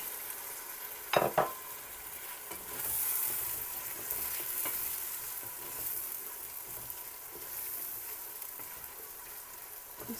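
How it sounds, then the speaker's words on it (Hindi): Tomatoes frying with garlic-ginger paste for masala tinda, a low steady sizzle running throughout, with a brief sharp clatter of stirring near the start and softer scrapes later. "इसको 2-3 मिनट के लिए भूनेंगे।"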